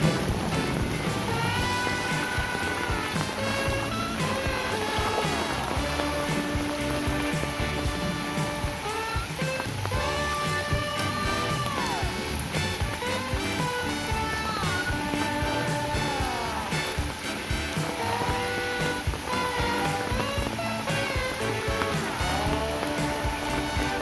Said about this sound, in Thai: ฝนก็ตกน้ำก็ท่วมละจ้า